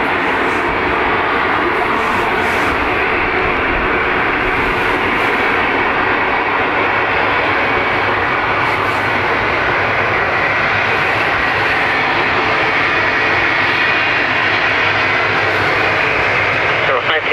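A jet airliner takes off from runway 10 right at Dublin Airport. Its loud, steady roar fills the whole stretch, with a voice talking faintly over it.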